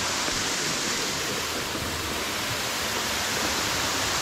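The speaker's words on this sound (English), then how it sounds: "Small waterfall-like place." Small waterfall at a bathing place in Bulutota, Sri Lanka, a steady broadband rushing roar of falling water, unbroken and even throughout.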